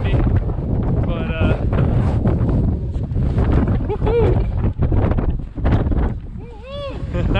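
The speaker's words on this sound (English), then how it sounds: "I don't even know if you guys can hear me, it's so windy" Strong wind at Beartooth Basin buffeting the microphone in heavy roaring gusts, with voices shouting underneath and some whooping near the end.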